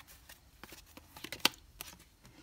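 Tarot cards handled and laid out one by one on a table for a six-card spread, soft papery slides and flicks with one crisp snap, close and quiet, with no talking over them.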